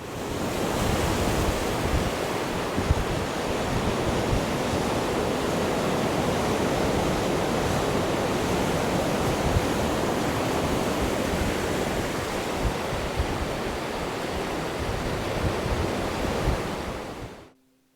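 Sea waves break and wash steadily at the water's edge on the rocky Cornwall coast, a close, loud, unbroken roar of surf over boulders that cuts off abruptly at the end.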